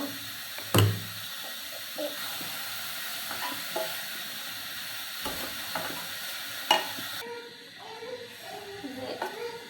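Carrots and sugar are stirred in a frying pan: a steady soft sizzle with scraping spoon strokes and a few sharp knocks against the pan, close by, with faint background voices.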